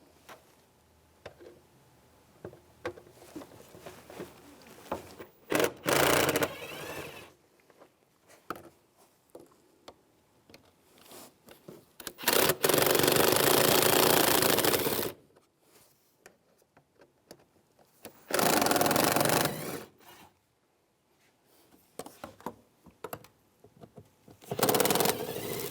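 A T25 socket loosens the air filter box screws on a 2008-2017 Buick Enclave with several separate bursts of loud, buzzy whirring of a few seconds each, separated by quiet stretches of faint clicks and handling noise.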